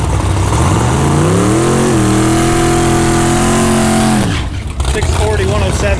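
An LS turbo-swapped Ford Ranger revs hard at a drag track, its loud engine note climbing steadily through the gears for about four seconds before cutting off abruptly, leaving quieter ambient noise behind.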